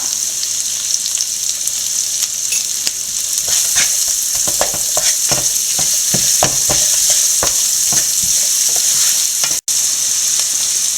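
Onions and ingredients for chilli chicken sautéed in a pan: steady loud sizzling with repeated close scraping stirs of a spatula, a brief cut near the end, no talking.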